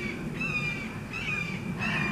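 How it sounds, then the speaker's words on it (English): A bird of prey's screams ring out in three drawn-out, thin, high-pitched calls spaced about a second apart over steady outdoor background noise, moderately distant. "a hawk will scream like that, or squeal, screech"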